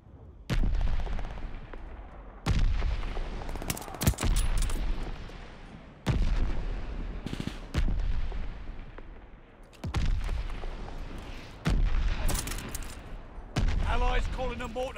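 A mortar barrage in Call of Duty Vanguard, with repeated heavy booming impacts every couple of seconds, each one a sharp loud blast that trails into rumbling debris, along with scattered gunfire and game announcer voices.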